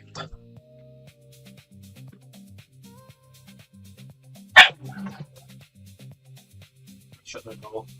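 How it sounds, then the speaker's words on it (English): A dog barks outside, one sharp, fairly loud bark followed by a few fainter yaps, heard over a quiet room with a low steady hum. "That dog's going mad."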